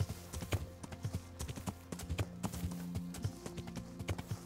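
Horse hooves clip-clopping at a steady, lively riding pace in the video game Kingdom Come Deliverance, close and distinct over a faint background.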